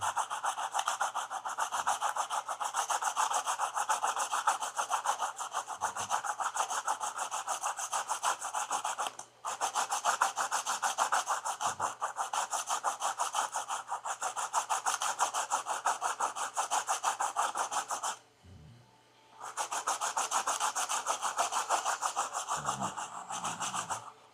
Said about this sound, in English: we're gonna shave down this lead just a tad bit so that we could have